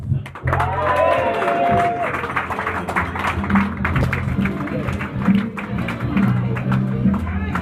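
Warm applause from a small evening audience in Billingshurst greeting a comedian arriving for a short stand-up set, steady clapping running the full length with a few voices and cheers mixed in.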